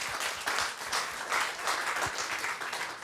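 An audience at a French book-fair author meeting claps for two authors, a brief burst of dense, steady applause heard close and alone.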